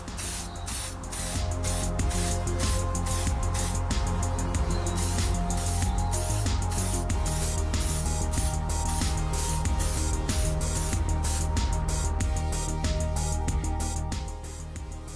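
Steady hiss of a spray can releasing tint paint onto a car taillight in long continuous bursts, close up, with brief pauses between passes.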